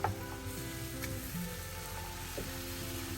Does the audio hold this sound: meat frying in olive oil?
yes